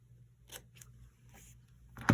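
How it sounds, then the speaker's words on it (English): A few short, crisp snips of scissors, with a louder, sharper cut near the end, close to the microphone and with no talking. "I'll just use the scissors."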